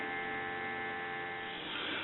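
A steady, unbroken dial tone hums from a Northern Electric rotary desk telephone under repair, quiet and constant with no voices.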